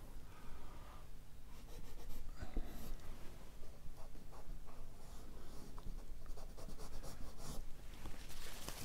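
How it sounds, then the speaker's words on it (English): A cut-off plastic eraser is worked over a drawing to lift highlights, making a steady close scratchy rubbing on paper with short strokes that keep going throughout. "Every time I want to do a highlight, I use my cut off plastic rubber."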